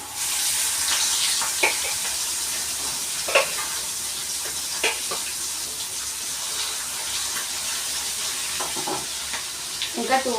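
Fish pieces frying in hot oil give a steady, close sizzle throughout, with occasional light clinks and scrapes of a utensil stirring or turning them and no talking.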